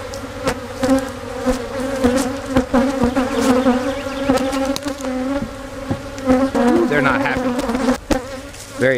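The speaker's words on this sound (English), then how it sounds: "Very angry bees." Angry honey bees swarm loudly around an opened hive during a fall hive check, a dense, continuous buzz with shifting pitch and close wingbeats passing near throughout.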